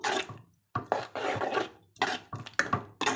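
A semolina and curd mixture being stirred in a bowl, heard as close, uneven bursts of scraping and clinking strokes separated by brief pauses, with no talking.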